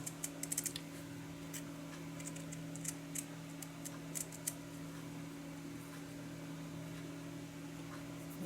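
Scissors snip through vintage linen fabric in a quick cluster of crisp cuts followed by sparser single snips, faint and close, over a low steady hum.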